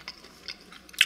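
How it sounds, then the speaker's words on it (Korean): Supermarket sushi from Home Plus is chewed up close with a few faint crunchy bites, the last one louder and sharper. "안에 뭔가 아삭하니 씹히는 게 있어서"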